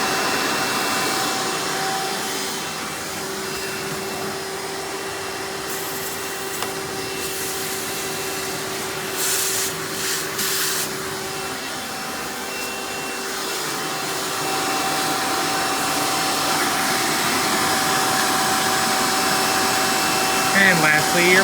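A Hoover Elite Supreme U5043-930 upright vacuum cleaner runs with its crevice tool attached, giving a steady, loud motor whine and airflow hiss throughout, with brief scraping bursts partway through and no talking.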